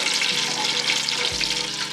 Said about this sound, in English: So you stir this up, make sure the sugar, the condensed milk,